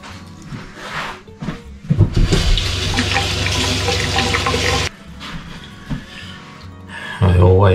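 Tap water runs into a sink while parsley is washed, a loud steady splashing stream starting and stopping a few times, with short gaps of quieter handling noise in between.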